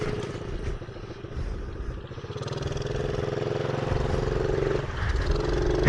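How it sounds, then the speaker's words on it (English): A small motorcycle rides through deep water: a loud, continuous mid-pitched engine drone mixed with churning, splashing clatter, steady throughout with no voices. "The bike is trying to stop."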